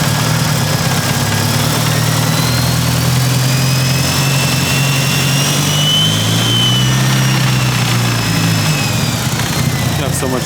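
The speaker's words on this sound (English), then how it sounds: "Ready for it to sound like a jet's about to take off?" A Mitsubishi Evo 5 engine with a G-Series turbo runs loud and close, holding a steady low drone with a rising whine in the upper range, like a jet about to take off.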